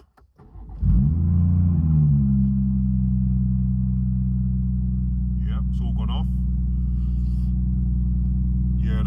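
A loud BMW M140i B58 engine idles steadily after a brief start with cold start turned off, a deep continuous rumble with a short spoken remark partway through.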